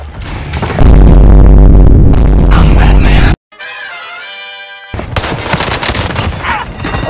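Loud, dense gunfire and booming blasts in Call of Duty: Warzone on Rebirth Island, a sustained barrage that cuts out briefly for a tonal game sound before sharp shots and impacts resume.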